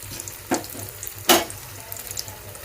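Aloo masala bajji frying in hot oil, a soft steady sizzle with two brief louder splashes as battered pieces drop in.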